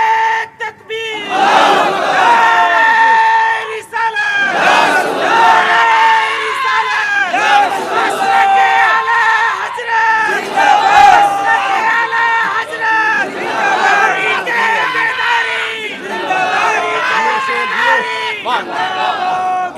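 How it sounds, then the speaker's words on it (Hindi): A large crowd at an open-ground religious conference gathering roars back a slogan in repeated loud bursts, with several waves of massed shouting following one another close and forceful. "लगाओ नारा मेरे साथ, नारे तकबीर"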